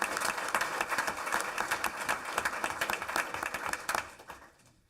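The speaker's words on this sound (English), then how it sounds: "please give our Ms. Sabrina Gomez a big round of applause." An audience at a school governing board meeting applauds for several seconds, a dense steady clapping that swells, then fades out near the end, with no voices over it.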